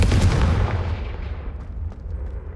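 The Confringo blasting spell in Hogwarts Legacy lands as a single heavy, booming explosion up close, then a long rumbling decay fades over about two seconds.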